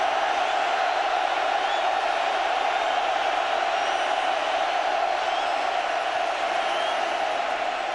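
Roaring stadium crowd noise on a third down at the 2006 Oklahoma at Oregon college football game, a constant loud wall of sound held steady throughout with no letup.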